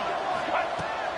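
A stadium crowd in College Football 26 roars in a continuous, loud wash of noise before a two-point conversion attempt, with no break for the whole brief stretch.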